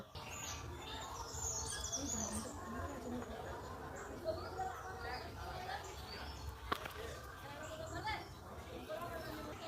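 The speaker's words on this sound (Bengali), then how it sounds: "পাখিগুলো কি সুন্দর গান করছে না কতই না পাখির আওয়াজ আসছে চারিদিক থেকে" Birds chirp and sing from all around a village rooftop in the morning, faint scattered calls over a soft background hum, with a little talk mixed in.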